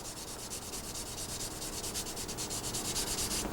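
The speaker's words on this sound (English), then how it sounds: "get a bit of a sanding stick, and you can just sand that out as well" A sanding stick rubs back and forth over plastic parts of a 1/48 scale Tamiya Supermarine Spitfire Mk.I model kit, making a close, quiet, rhythmic scratching in quick repeated strokes.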